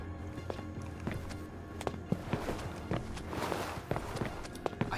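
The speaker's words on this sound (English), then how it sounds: "And why is my footsteps so loud right now?" A player character's footsteps in the video game Watch Dogs, loud and close, fall in an uneven run of hard steps over a busy game background.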